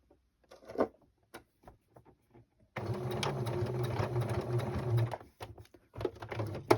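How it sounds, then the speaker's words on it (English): After a few soft clicks and handling noises, a domestic sewing machine starts up and stitches fabric for a storage bowl, a close, steady mechanical whirr lasting several seconds with brief pauses. "just try and stitch towards that"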